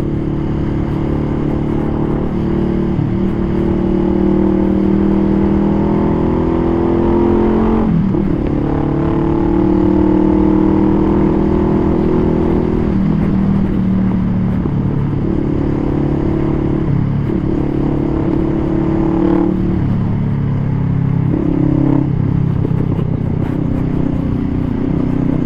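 A Honda Rebel 500 cruiser's 471 cc liquid-cooled engine drones steadily while riding, loud and continuous with small rises and falls in throttle and no talking over it.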